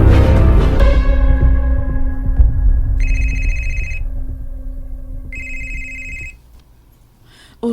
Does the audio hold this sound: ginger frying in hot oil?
no